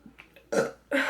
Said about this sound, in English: those burps are so painful